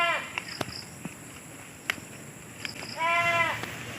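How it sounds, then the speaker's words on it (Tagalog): A goat bleats with a wavering, nasal call at the start and again near the end, with scattered clicks and rustling in between. "Ingay nung kambing"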